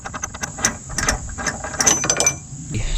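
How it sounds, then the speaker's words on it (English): A ratchet wrench turns out a subframe bolt on a 2019 Mustang GT, rapid close clicking in uneven bursts against a low background hum. "So we got to remove the subframe bolt completely."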